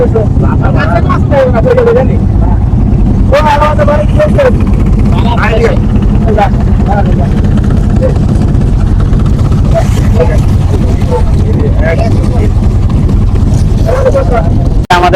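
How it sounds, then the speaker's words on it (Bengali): A steady, low engine drone of a moving river boat runs throughout, with several people talking over it. "নৌকা কিন্তু ছুটে চলছে দেখুন এই নৌকা যাচ্ছে আমাদের"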